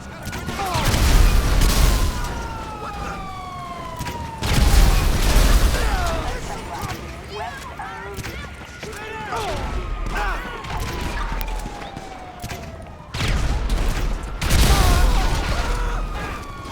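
Explosions and gunfire in Grand Theft Auto V, heavy booms and crashing blasts recurring every few seconds with rattling gunfire and debris between them, loud and dense throughout.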